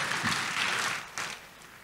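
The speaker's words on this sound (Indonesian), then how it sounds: "Tepuk tangan yang meriah buat Tuhan Yesus." A church congregation claps for Jesus, a short burst of crowd applause that swells, dips and flares again before fading, with no talking over it.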